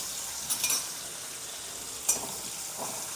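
Chopped green chillies and green garlic go into hot oil with asafoetida, raising a low sizzle. A few brief clinks and scrapes of stirring stand out above the quiet hiss. No one talks.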